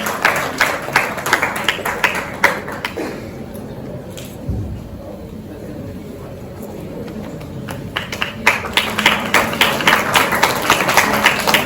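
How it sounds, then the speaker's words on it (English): Scattered clapping from an audience welcoming a guest at an education event, loud bursts at the start and end with a quieter, sparser stretch in the middle. "Ladies and gentlemen, a huge round of applause for our esteemed guest."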